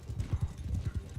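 Horses gallop in a Bannerlord battle, their rapid, rhythmic hoofbeats pounding close and fairly loud for a brief burst.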